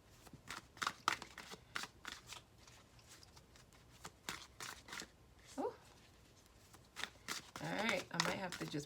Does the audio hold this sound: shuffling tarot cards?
yes